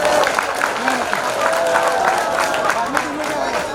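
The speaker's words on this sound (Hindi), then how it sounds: "तो एक मरतबा फिर ताली बजा दीजिए।" Audience applause and cheering at a mushaira during the 150th Urs in Kamptee, a steady crowd wash with some voices mixed in, continuous and fairly loud throughout.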